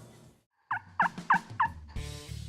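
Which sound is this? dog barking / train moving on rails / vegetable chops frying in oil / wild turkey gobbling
wild turkey gobbling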